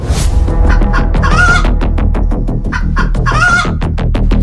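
Cartoon chicken clucking frantically while being chased by a fox, loud repeated squawks and clucks over steady background music, with crowing-like cries rising twice.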